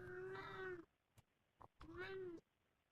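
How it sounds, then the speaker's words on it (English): A house cat meows twice nearby, two drawn-out, fairly clear cries separated by a short pause with light clicks and rustles, quiet overall and with no speech. "you got a cat."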